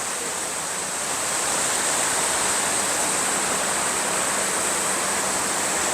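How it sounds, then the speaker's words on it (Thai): Water rushes steadily down the Lam Than river where it drops over a small waterfall, a loud, continuous broadband roar that swells slightly after the first second and holds with no voices. "น้ำก็จะไหลลงมาทางนี้ทุกคน"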